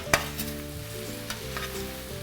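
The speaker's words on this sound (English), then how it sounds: "Just stir those potatoes." A spoon stirs boiling potatoes in a pot with soft scraping and a few light knocks against the side, over a quiet bubbling simmer and a faint steady hum, with no voices.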